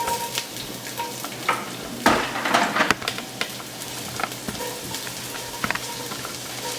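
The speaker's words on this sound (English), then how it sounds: "move them over to the pot and put them into the medium hot oil" Diced onions sizzling steadily in medium hot oil in a pot, a loud close crackle with occasional clatter of stirring.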